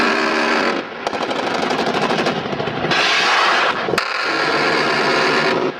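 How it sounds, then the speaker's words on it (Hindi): A Black Hawk attack helicopter gives a loud continuous mechanical roar with rapid pulsing rotor chop, dense and close, with a couple of brief dips in intensity. "Next, Black Hawk attack helicopter जिसकी आवाज मौत जैसी होती है।"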